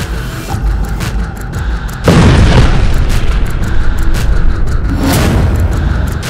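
Iranian missile exploding in Tel Aviv, a loud, close roar that jumps sharply in force partway through and keeps rumbling, with a second surge near the end.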